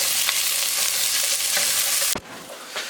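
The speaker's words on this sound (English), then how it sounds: "So I'm now gonna cook this ginger and garlic for the next 5 minutes." Chopped fresh ginger and garlic frying in a pan for an Indian spinach chicken dish, a steady close sizzle with faint stirring scrapes that drops off sharply near the end, as if the pan is moved.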